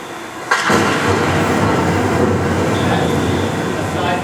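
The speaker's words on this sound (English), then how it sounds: "That's a seismic air gun array going off. You hear the sonar, the ship's sonar." Underwater recording of a seismic air gun array going off beside a ship's sonar: a sudden loud boom followed by a sustained roaring, rumbling wash, with a faint high tone appearing partway through.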